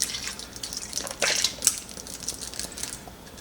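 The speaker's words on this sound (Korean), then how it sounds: "씻으셨으면 우유를 있잖아요. 여기다가 이렇게 부어 놓으세요." Milk poured over rinsed chicken wings (drumettes) in a bowl, a soft wet splashing and trickling that swells briefly in the middle, close and fairly quiet, with no talk.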